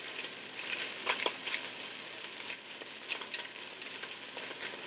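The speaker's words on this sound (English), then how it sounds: "We're going to give it a nice stir." Chicken fried rice is stirred and broken up in a hot Ninja Foodi pot, giving a steady crackling sizzle with repeated scraping and stirring clatters at close range, and no voices.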